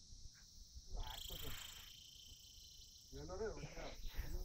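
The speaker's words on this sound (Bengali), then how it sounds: "চারিদিকে ঝিঝি পোকা ডাকছে খালি" Crickets chirp on a hill road, a steady high shrill drone running throughout, while someone talks intermittently nearby over it.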